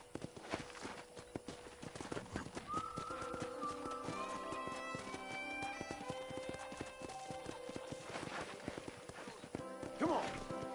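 Horse hooves clip-clop at a steady walking pace on a ranch in the video game Red Dead Redemption, set among ambient music and occasional distant calls throughout.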